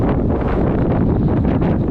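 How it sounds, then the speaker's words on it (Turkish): Steady, strong storm wind roars and buffets the microphone during sea bass fishing, a dense broadband rush that stays constant with no pauses. "Yani karşıdan rüzgar geliyor buraya"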